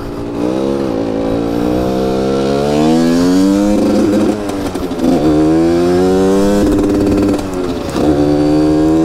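A RIJU MRT 50 moped engine pulls loudly and close through its gears, its pitch climbing in repeated sweeps and dropping briefly at each shift before rising again, with no talk.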